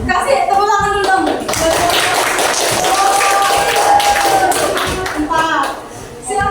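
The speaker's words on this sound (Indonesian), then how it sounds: "Kasih tepuk tangan dulu dong." Students in a junior high school classroom applaud, a steady burst of clapping hands lasting several seconds with children's voices chattering over it before it tapers off.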